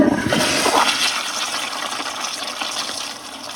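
A 2015 Kohler Highcrest toilet flushes, a loud rushing gush of water that starts strong and keeps draining steadily for several seconds, close by with no talk over it.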